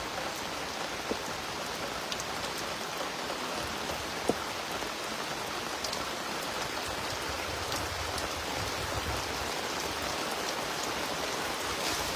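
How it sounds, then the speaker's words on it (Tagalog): Steady rain falls in an even, soft hiss, with an occasional sharper drop tapping nearby. "Dahil ulan na."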